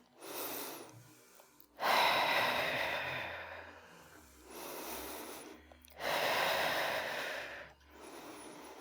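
A yoga student breathes deeply during a gentle yoga session for breast cancer recovery, with about three long, close, audible inhale-exhale cycles and no speech.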